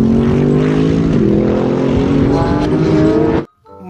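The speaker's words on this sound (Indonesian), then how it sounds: "Mobil balap Lamborghini," A toy Lamborghini race car plays a loud electronic engine sound effect: a continuous revving drone with shifting pitch that stops abruptly near the end.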